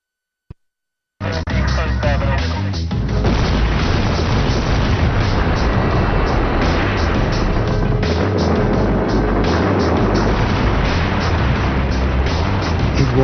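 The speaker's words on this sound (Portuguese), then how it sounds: "A explosão lembrou fogos de artifício." A sudden sharp crack from a dynamite blast at the Itaipu dam construction site, followed by a massive, sustained roaring rumble that continues loudly and steadily for many seconds.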